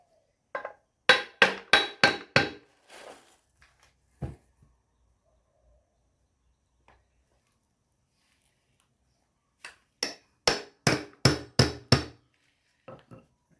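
Two quick bursts of sharp, rhythmic hammer tapping on a tractor, about five strikes each, with a few isolated knocks in the quiet between them.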